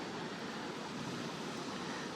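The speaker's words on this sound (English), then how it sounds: "Oh, the waves crashing are so peaceful and beautiful." Ocean surf breaks on the shore near a park where people fish by the water, a steady broadband wash of waves with no clear separate crashes, fairly soft and continuous with no voices.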